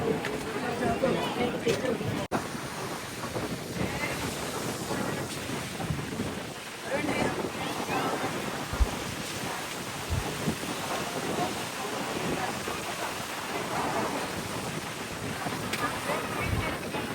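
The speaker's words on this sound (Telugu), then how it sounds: "ఈ అలలు అయితే ఎంత మీదికి ఎగిరి పడుతున్నాయి" Surging sea waves crashing and splashing high at Triveni Sangam, a roaring wash battered by wind noise, with a person talking over the steady churn.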